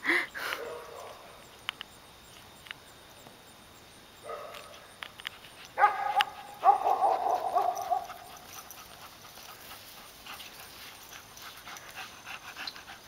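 Winston the dog pants and lets out short whimpers and yips during frisbee play outdoors, with quiet gaps between bursts and a bit of faint human voice.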